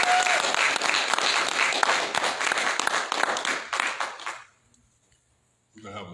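Church congregation applauding at a Recovery Church service, a loud dense burst of many hands that thins out and stops near the end, followed by a brief pause and the start of another sound.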